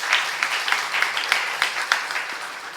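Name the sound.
congregation applause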